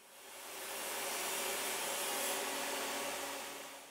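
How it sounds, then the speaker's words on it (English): A power saw with a 1/16 inch blade cuts a slot in a wooden spinet key rack, giving a single loud, continuous whining roar that swells and then eases off over a few seconds. "with a 1/16 inch blade I can cut slots in the rack where I mark them"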